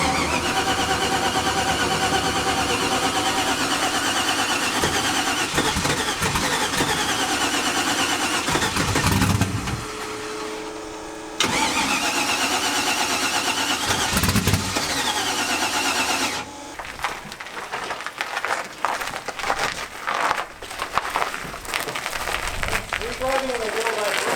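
Car engine on a Malibu cranked by the starter after a fuel issue, with repeated whirring bursts, a sputtering catch and rough running near the end, under talk and background noise.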